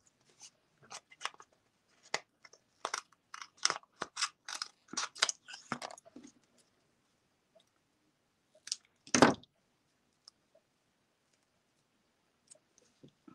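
Scissors snipping through paper card while making a handmade birthday card, a quick series of close, crisp cuts followed by a pause and one louder snip, then near silence.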